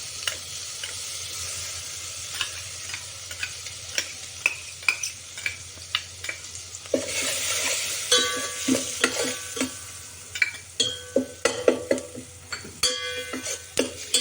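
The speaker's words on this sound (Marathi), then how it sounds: "तेल खूप तापलेलं आहे त्यामुळे आपण हळूच आता हा मसाला टाकून घेऊ" Masala with cumin and garlic goes into very hot oil for horse gram shengole, raising a steady loud sizzle and crackle while a spoon stirs and taps the pan in repeated clicks; no one speaks.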